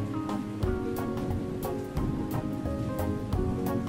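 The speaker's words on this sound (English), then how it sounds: "It was not going to stop raining for a long time." Steady rain pouring down in a continuous hiss, mixed with musical tones and a few sharp accents at regular intervals.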